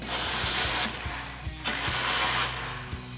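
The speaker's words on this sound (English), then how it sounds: "you want to grab your 18mm socket, and we'll tighten down our nuts and bolts" An 18mm socket ratchet tightens nuts and bolts on a front bumper for a Jeep Wrangler JL, giving a rapid, regular series of close pawl clicks over a steady hissing background.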